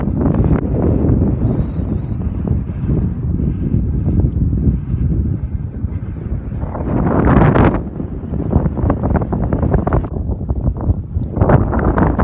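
Strong headwind roars and buffets against the microphone while cycling on a road bike, loud and continuous with gusty surges, no speech.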